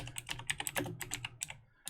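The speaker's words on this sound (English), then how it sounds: "I can hear you typing on your 1980s Packard Bell." Rapid, clicky keystrokes clatter close by on a mechanical keyboard, an uneven burst of typing with no talking.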